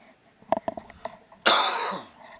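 A few short, faint clicks lead into one sharp, breathy cough that trails off.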